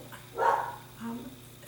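A single dog bark, then a softer second yelp about half a second later, fairly close, with faint background hum.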